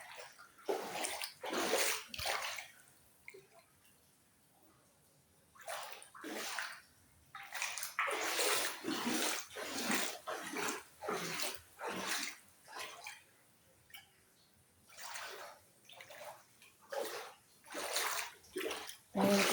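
Floodwater inside a house in Cypress Village, Cainta, sloshes and splashes as someone wades through it in repeated loud surges with short quieter pauses.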